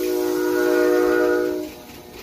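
A firm passenger train on the Almaty–Mangystau route with decorated wagons sounds a loud, close horn blast for about a second and a half, then fades into a low rolling rumble.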